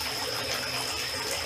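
Pump-driven water recirculating after the supply is shut off, a steady, close, continuous rush and splash with no pauses.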